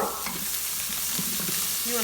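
Spinach going into a hot Pampered Chef Quick Cooker pot gives a steady, close sizzle and hiss with light stirring scrapes, with no one speaking.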